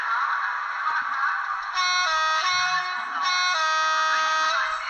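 A Trix CC 40105 digital sound model locomotive sounding its two-tone horn, with loud, steady electronic tones switching pitch in long held blasts over a constant background hum.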